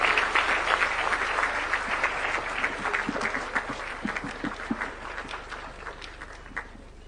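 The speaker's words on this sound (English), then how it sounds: "Please, a round of applause for His Excellency the President." Audience applause for the President at a formal Kenyan state address, a broad roar of clapping that starts loud and gradually thins and fades toward the end, with scattered individual claps.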